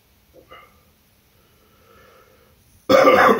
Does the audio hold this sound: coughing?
yes